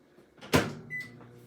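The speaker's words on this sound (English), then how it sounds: "So let's get those into the microwave." A microwave oven loaded with chicken souvlaki gives a sharp close thud of its door shutting, then a short electronic beep, in a quiet kitchen with no talk.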